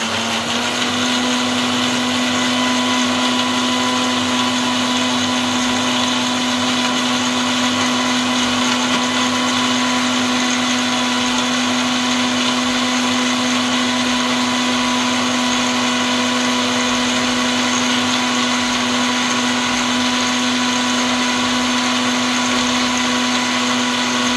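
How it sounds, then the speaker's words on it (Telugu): Kitchen mixer grinder blending banana, almonds and cashews with milk into a milkshake: a loud, steady motor whine runs continuously at close range, unchanging for the whole stretch with no talking. "నున్నగా మిక్సీ పట్టుకున్నామండి"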